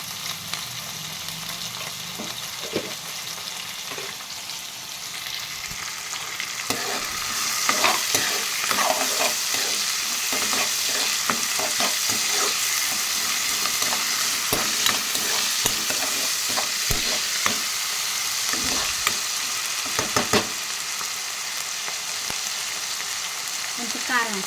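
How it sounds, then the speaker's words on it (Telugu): Cluster beans fry in a pan with a continuous hiss and crackle of hot oil. Frequent scraping clatters from stirring join in and grow busier and louder after the first few seconds. "గోరుచిక్కుడుకాయలను ఫ్రై చేస్తున్నాను."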